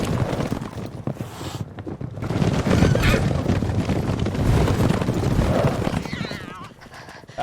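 Horses in the video game Witcher 3 clatter in a steady clip-clop of hooves, loud and close, mixed with wind and game noise while a voice talks over much of it.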